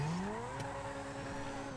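Car in GTA V during a bank heist, its engine revving with rising pitch and tires squealing steadily as it takes corners, loud and close with no talk.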